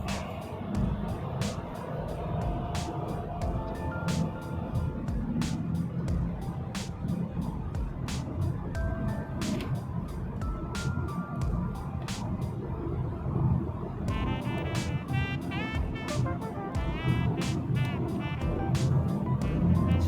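A 2008 BMW E90 accelerates on the road, a steady engine drone and tire rumble from inside the cabin, with regular ticking clicks throughout and a rising whine toward the end.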